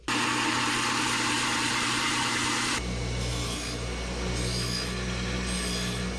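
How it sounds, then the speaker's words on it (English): A mild steel part is trimmed and deburred with a power tool, giving a loud, continuous grinding rasp that shifts abruptly partway through into a lower, steadier whir with a pulsing edge. "Quick little trim up and deburr."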